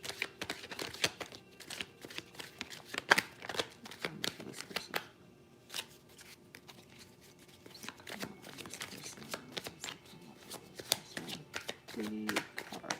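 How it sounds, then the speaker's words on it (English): A deck of tarot cards is shuffled close up in quiet, with rapid papery riffles and flicks in irregular bursts and short pauses between them. "So I want to pull a couple cards from this deck here."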